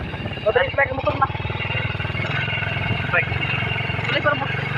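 Motorcycle engine droning steadily while riding, a close, continuous low buzz throughout, with people talking over it.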